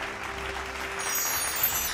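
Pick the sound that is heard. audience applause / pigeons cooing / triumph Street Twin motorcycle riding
audience applause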